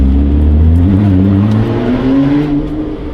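An Alfa Romeo 4C Spider accelerates hard, its engine roaring loud and close as the pitch climbs through the gears before easing off near the end.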